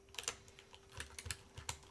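Keys clack on a Mode Sonnet mechanical keyboard, fitted with a long-pull spacebar, in an irregular burst of crisp strikes with a few louder thocks, close and with no voices.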